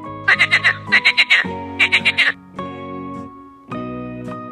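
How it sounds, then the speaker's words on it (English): A frog croaks in three quick bursts of rapid rattling pulses, followed by a couple of lower, drawn-out tones, close and loud with no talk. "Where is the frog?"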